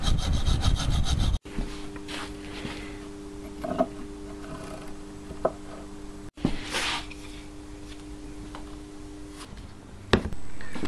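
Screw threads are sawn off short by hand, a close, steady rasping stroke sound under a faint hum, with two brief pauses and a few sharp clicks scattered through.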